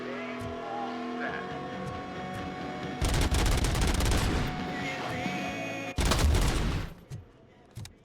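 Enemy gunfire rattles in loud bursts during combat in the video game RoboCop Rogue City, with dense rapid shots over game music and effects before cutting back to quieter ambience.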